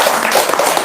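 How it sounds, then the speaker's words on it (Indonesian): A group of people clap and applaud together in a brief, dense burst of hand claps, close and lively, with no talk over it. "Tepuk tangan dong."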